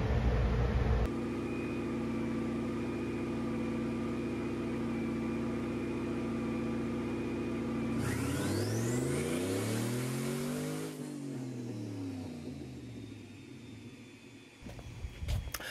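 A 2005 Chevrolet Tahoe with a 5.3L V8 and a GTX3584RS turbo, idling steadily, then revving hard up and back down with a rising turbo whistle before settling, close and loud with no voices.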